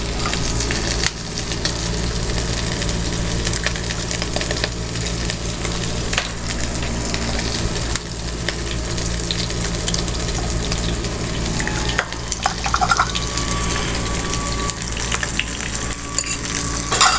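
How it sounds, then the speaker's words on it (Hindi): Chicken sizzling and frying steadily in a pan for Indian-style macaroni, with eggs added partway and stirred through; a continuous close, loud sizzle runs throughout, with occasional scraping of a utensil against the pan and no talking. "और चिकन को फ्राई करेंगे।"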